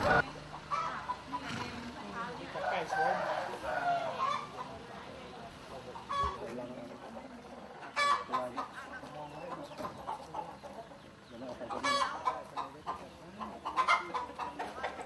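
Fighting roosters and chickens at a Thai temple, with a cock crowing and hens clucking repeatedly amid busy surroundings, while people talk nearby throughout.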